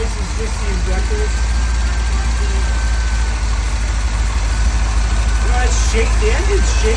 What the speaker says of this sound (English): But that hammering noise is just the injectors.